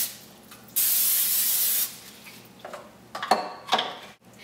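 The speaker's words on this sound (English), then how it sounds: "grease the pan with a little bit of cooking spray" A single short hiss of cooking spray onto a hot frying pan, about a second long, followed by a few light clicks and taps of a pan or can.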